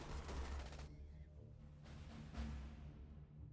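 Turrets fire in the sci-fi strategy game Starship Troopers Terran Command, a rapid stuttering burst of distant automatic shots at the start, then quieter second and third volleys over a low rumbling background.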